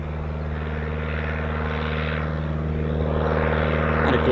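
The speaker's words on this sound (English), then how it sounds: "nice touch and go. So touch and goes allows the pilot to practice landings" Eurofighter Typhoon FGR4 jet making a touch-and-go at an RAF station, a steady loud roar of engine noise with a broad whoosh that swells toward the end, heard at a distance with no talking.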